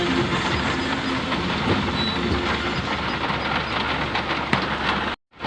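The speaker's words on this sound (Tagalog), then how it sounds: "Yan guys, ang lakas ng ulan." Dense, steady roar of heavy rain in Caloocan West, with a rumbling, rhythmic undertone like a moving vehicle, cutting off abruptly near the end.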